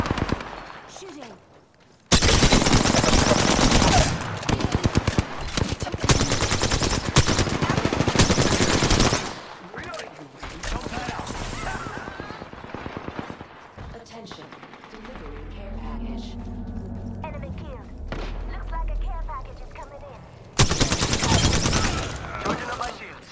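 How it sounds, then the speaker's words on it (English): Bursts of rapid automatic gunfire from the Apex Legends battle royale video game, mostly an Alternator and a Devotion, loud and dense. They come in long stretches separated by quieter game sounds and a voice talking over the action. "Shooting."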